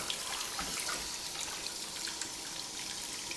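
Water runs steadily from a tap into a sink as it warms up, a soft continuous hiss and splash close by, with no talking.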